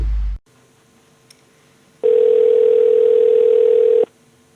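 A telephone line clicks, then a steady dial tone hums for about two seconds before cutting off, heard alone and clear at the start of a radio prank call.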